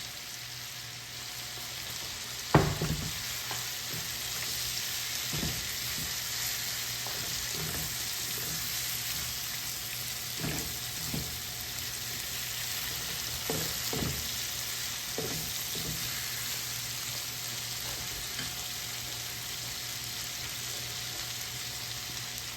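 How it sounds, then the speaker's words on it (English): Shrimps sizzle and fry steadily in a pan with browning garlic for a scampi dish, a constant hiss broken by scattered clicks and stirring knocks, one sharp clatter early on, no talking. "we add the shrimps."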